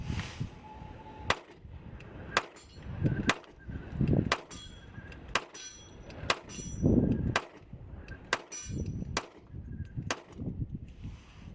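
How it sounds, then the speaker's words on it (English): Pistol shots from an SCCY CPX-2 or Taurus PT111 G2 during a reliability test, about a dozen sharp cracks in a steady, fairly quick rhythm with handling noise and rustling between them. "Next 2 mags, we're gonna shoot through them a little bit quicker."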